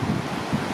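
A shallow creek, less than two feet deep, rushes at a trail crossing in the Desolation Wilderness. It makes a steady, close, hissing wash with wind-like noise and no voices.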